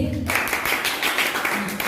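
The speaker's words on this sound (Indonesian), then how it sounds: "Ya, beri tepuk tangan dulu untuk kelompok B." A brief burst of clapping from a class honoring a student group during a school lesson follows a moment of speech and continues steadily for under two seconds.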